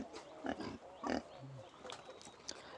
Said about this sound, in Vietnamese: Đây mọi người xem những con lợn này.